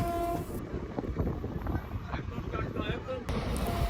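Howrah–Malda Town Intercity Express train running between Nabadwip Dham and Katwa Junction, a steady rumbling roar of wheels and carriages heard from on board, with a voice talking faintly in the background.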